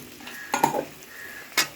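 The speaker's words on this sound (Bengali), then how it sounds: "এটা খুব ভালোভাবে নাড়তে হবে।" Ilish fish curry is stirred in a pan, with a few scraping clatters of the spoon against the metal over a soft background sizzle.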